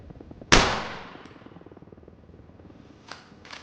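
A single sharp sniper rifle gunshot in the video game Arma Reforger rings out and decays with a metallic tail, followed later by two faint distant clicks.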